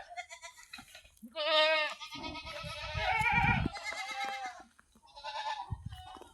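Hungry goats at a goat house bleat loudly and repeatedly, several overlapping nanny-like cries in quick succession with short pauses, close to the listener and with no talking.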